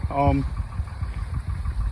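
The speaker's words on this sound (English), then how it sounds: "got my tractor going, got it ready" A tractor engine idles with a steady low rumble in a hayfield, with a baler set up nearby for raking and baling; a brief voice sounds over the start of the idle.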